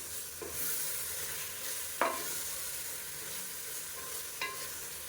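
Onion, mint paste and ginger garlic paste sautéing in oil for chicken biryani, a soft continuous sizzle broken by a few scraping stirs of a spoon against the pan.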